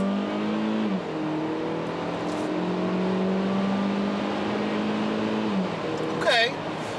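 A 2017 Kia Soul Turbo accelerating hard with traction control off, its engine note climbing steadily through the gears with shift dips, close and loud inside the cabin, with a brief squeal near the end.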